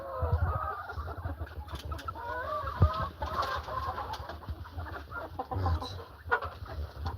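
Several chickens cluck and murmur continuously, close by, with scattered sharper squawks among a busy flock inside a chicken coop, no talking.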